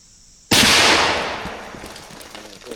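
A Savage 110 bolt-action rifle chambered in .350 Legend fires a single loud, sharp shot outdoors, with a long echoing decay after the crack and no talk.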